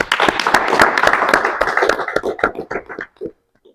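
An audience at a school-failure talk session breaks into applause, a thick burst of many hands clapping that thins into scattered individual claps and fades out.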